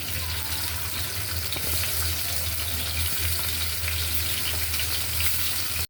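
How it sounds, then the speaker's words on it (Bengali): Hilsa fish frying in hot oil in a pan, a continuous close-up crackling sizzle that holds steady throughout before cutting off abruptly at the end. "আমার মাছগুলো ভাজা হয়ে গেছে"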